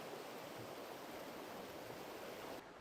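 A river rushes past near a sluice gate, giving a steady, broad roar of flowing water heard alone and fairly close, with no talking.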